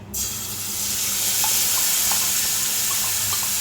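Whole spices for a Bengali coriander-leaf pickle crackle into hot oil with the gas turned off, starting with a burst, then a steady bright sizzle with small pops, close up and without talking.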